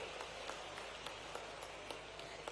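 Applause from an audience at a Raksha Bandhan and Shravan festival event for women in Anuppur district, as the Chief Minister is honoured with a Baiga turban; steady, faint clapping throughout with scattered sharper claps.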